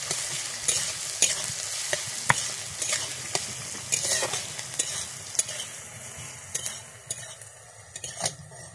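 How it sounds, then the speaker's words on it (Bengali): Chopped onions fry in a pan until browned, a steady soft sizzle broken by frequent scraping clicks of a spoon stirring against the metal, close by with no talking. "আমি পেঁয়াজটাকে দিয়ে এবারে লাল করে ভেজে নেব।"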